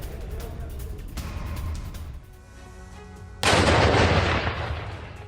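Artillery fire from war footage of an attack on Russian soldiers: loud, dense crackling gunfire and blasts, easing into a quieter stretch before a sudden, powerful explosion-like surge near the end.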